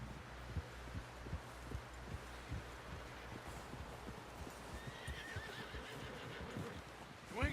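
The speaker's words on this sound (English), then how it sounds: "Someone help John down off this horse." A horse in Red Dead Redemption 2 whinnies amid steady clip-clop hooves and a low rumbling game backdrop, the neigh rising clearly near the end.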